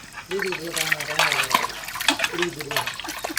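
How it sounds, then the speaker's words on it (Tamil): Water runs from a tap while fruit such as mango, pineapple, grapes, lemon and orange is washed in a village kitchen, a steady splashing trickle close by, with people talking over it throughout. "பழங்கள் எல்லாம் சுத்தமா கழுவி எடுத்துக்கலாம்"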